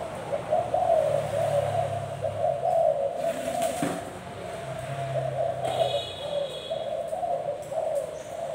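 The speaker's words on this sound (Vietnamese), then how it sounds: "cái gù liên tục" A Thai dove coos continuously, its low, rhythmic coo phrases repeating close and clear over a steady background hum.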